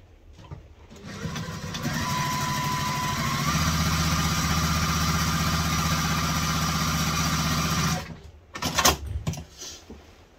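Sewing machine stitching a wallet seam, a steady mechanical whirring hum that builds and runs continuously for several seconds, then stops, followed by a few short handling clatters.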